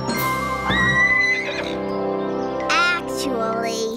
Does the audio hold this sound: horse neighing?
yes